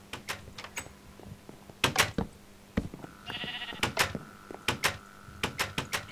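In the game Minecraft, a sheep bleats in a brief wavering call among many crisp clicks and taps from blocks, gates and footsteps, with a low hum running underneath.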